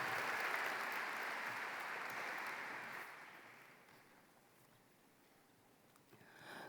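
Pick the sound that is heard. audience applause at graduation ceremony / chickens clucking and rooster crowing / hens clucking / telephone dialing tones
audience applause at graduation ceremony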